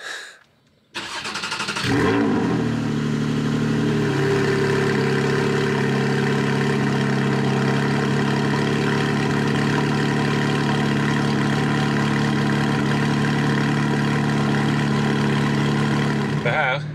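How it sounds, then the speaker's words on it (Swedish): A Porsche GT4 with an Akrapovic exhaust cranks and fires into a loud cold-start roar, then settles into a steady, high, rumbling idle that continues to the end. "Så vi startar väl upp så ni får höra kallstarten."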